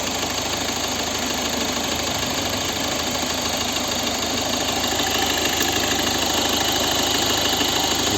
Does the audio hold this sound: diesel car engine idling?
yes